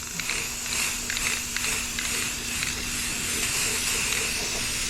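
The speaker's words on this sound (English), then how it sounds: "So we're just giving it a little coat just to protect it." Aerosol spray coating being applied to a bare steel frame from a 1953 Chevy 3100 on an S10 chassis, a steady hiss running throughout with short bursts and pauses, close and fairly loud with no talking.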